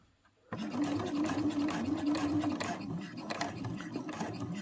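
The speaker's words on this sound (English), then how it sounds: "I am going to do a couple of back stitches." A sewing machine runs continuously, whirring and clattering steadily as it sews back stitches on the end of a fabric zip, starting abruptly after a short quiet moment.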